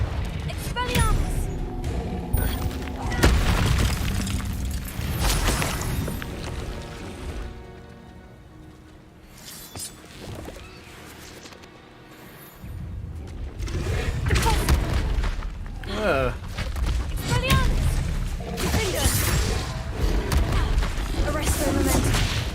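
Confringo blasting spells in Hogwarts Legacy set off a run of booming explosions, heavy and repeated in bursts with brief lulls, while a voice talks over the combat.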